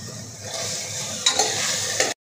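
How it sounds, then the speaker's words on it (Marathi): Chicken biryani mixture stirred in a hot pan gives a steady sizzle with continuous scraping, punctuated by a couple of sharper spoon knocks before the sound cuts off abruptly. "मिक्स करून घ्यायचं याला चांगलं"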